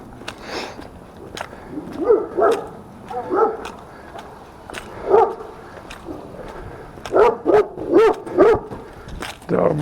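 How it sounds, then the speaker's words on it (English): A dog barks repeatedly at a passer-by on a neighborhood walk in Little Rock, Arkansas, a series of sharp, fairly close barks and yips with short gaps between them over outdoor ambience. "Dog barking at me."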